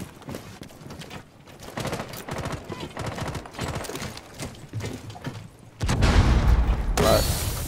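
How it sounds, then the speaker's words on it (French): A smoke grenade thrown in a video game bursts into a loud, sustained hissing whoosh near the end, following a stretch of clattering gameplay noise and mechanical sounds with a voice talking over it. "Je lance une grenade."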